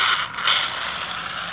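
A toy train fitted with carriages runs on batteries and a standard dynamo motor, giving a steady, close mechanical whir and clatter with a brief scrape at the start.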